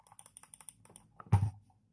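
Quick keystrokes on a computer keyboard tap out a close, irregular patter for about a second, followed by a single louder, heavier thump.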